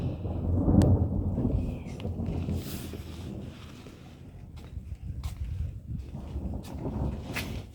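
Rolling thunder in a garden during a thunderstorm, a deep rumble swelling early and fading over several seconds, with rain and light wind noise continuing underneath and no talking.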